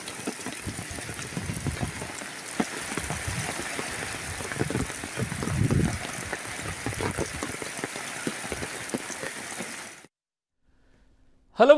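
Heavy rain pours down in Tumakur district, a dense steady patter of drops on surfaces for about ten seconds before cutting to near silence.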